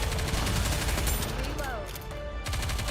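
Rapid bursts of automatic gunfire in the video game Nikke, dense crackling volleys close and loud, briefly thinning midway before resuming, with a game voice speaking over the shots.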